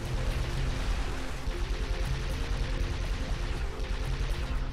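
Dense, continuous gunfire and rumbling battle noise in the video game Halo 3, steady and fairly loud without clear breaks.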